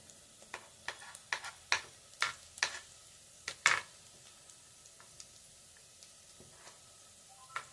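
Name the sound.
onions frying with garlic ginger paste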